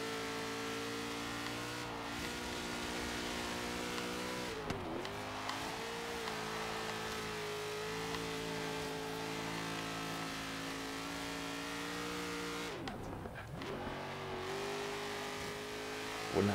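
A 700 kW SUV speeding along a road in Forza Horizon 3, its engine holding a steady high-revving drone with two sharp dips and climbs as gears shift or throttle lifts, no talking over it.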